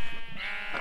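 A Minecraft sheep bleats in the video game near lava, a short wavering synthetic bleat with a buzzy tone, heard close and alone for under a second.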